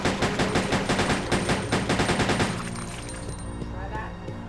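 Rapid gunfire bursts in Resident Evil Code Veronica X, a dense run of loud repeated shots for about two and a half seconds, then tapering into quieter game ambience.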